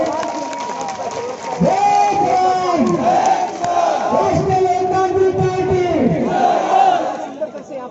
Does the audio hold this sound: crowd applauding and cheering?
yes